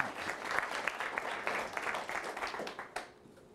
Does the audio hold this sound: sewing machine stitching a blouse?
no